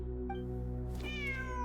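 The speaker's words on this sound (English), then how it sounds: "Wait, there it is! The cat." A video game cat gives a clear, rising meow over a steady droning game background, with no talk.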